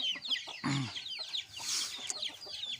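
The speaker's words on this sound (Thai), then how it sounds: "ลูกไก่ชนครับ" Fighting cock chicks cheep in quick, high, downward-sliding peeps, several birds overlapping nearby, with a brief lower cluck early on and no speech.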